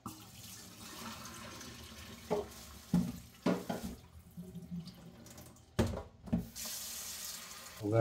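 Rice is washed under a running kitchen tap, a soft steady stream of water into a sink with several louder splashes and clatters as the grains are rinsed and swirled.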